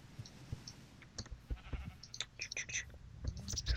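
Baby sheep bleat in a Fallen Kingdoms video game session, a few short game bleats mixed with clicking and other game effects at moderate level.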